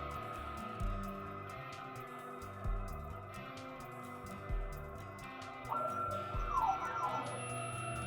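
A Masso CNC spindle turns at 1500 RPM, giving a steady, layered mechanical whine with stacked tones, a few brief bumps in level and a rising, wavering tone near the end.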